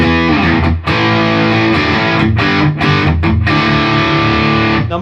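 Electric guitar played through a Boss DS-1W Waza Craft distortion pedal with the distortion set all the way down, tone in the middle, into a clean amp channel with a Greenback speaker. Loud, sustained chords with a few brief gaps, mildly gritty and alone.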